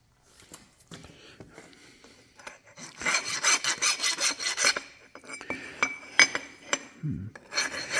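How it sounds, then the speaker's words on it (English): Deburring a machined metal part for a custom motorcycle jig, done by hand in a machine shop: bursts of rasping, filing strokes, louder and denser in the middle, with a few sharp metallic knocks and no talk. "It's got a bit of a burr on there, so we'll deburr that."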